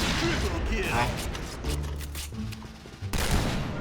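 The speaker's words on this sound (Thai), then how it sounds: "เฮ้ยใครยิงวะ" Dense gunfire in the shooter game Point Blank, heard as continuous overlapping shots and mechanical clatter, loud and close throughout, with a voice talking over it.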